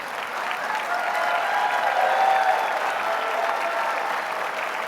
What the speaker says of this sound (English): give another round of applause for the fantastic entertainment, the DuPont Brass